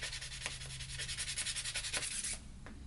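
Sandpaper rubs over a resin 3D printed blaster part in quick, faint, rhythmic scratching strokes, close to the microphone and without talk.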